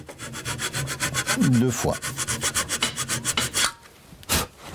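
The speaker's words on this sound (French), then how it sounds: "Et maintenant, je vais scier comme ceci." A hand saw cuts through wood in steady back-and-forth strokes, each rasping pass clear and close, while a woodworker marks out a cut. The rhythm pauses briefly near the end before one last stroke.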